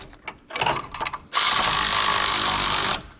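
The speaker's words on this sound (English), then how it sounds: "As you tighten up this bolt, this pulls up." A ratchet tightens a bolt to tension the belt during a water pump replacement on a 1988 Ford Ranger 2.9L. A few loud, close clicks are followed by a sustained rapid ratcheting burst that runs for about two seconds, with no talking.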